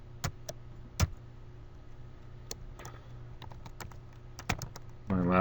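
Laptop keyboard keys clatter in scattered, irregular clicks over a low steady hum, with a brief voice at the end.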